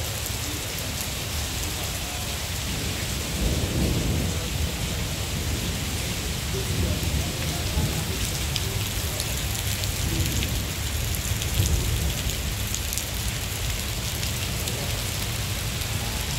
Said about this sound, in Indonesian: Dan cuaca di sini sedang hujan ya guys.